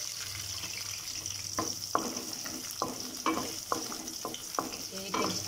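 Garlic and ginger frying in oil with almonds and whole chillies for a restaurant-style chicken gravy, a continuous sizzle broken by several sharp spoon-against-pan knocks, close and alone.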